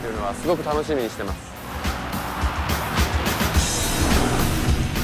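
Lotus Evora engine in the Gran Turismo 5 racing game at the Goodwood Festival of Speed, a steady motor drone building louder over the second half, with someone talking over the start.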